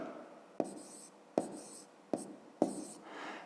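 A pen writes math on paper in four quick strokes with scratchy attacks and short pauses between them, close and quiet, with no talk.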